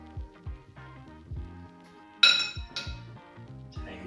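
Metal utensils clink against ceramic bowls as cooked rice is split between a couple of them, with a run of light taps and scrapes and one sharper, louder clink midway, close up with no talk.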